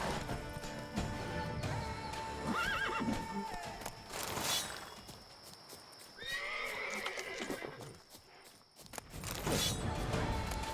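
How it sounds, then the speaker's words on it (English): Horse whinnies and snorts in The Witcher 3, loud bursts around the start and middle, with hoof clops and a brief crash, separated by quieter stretches of game ambience. "Horses are noble beasts."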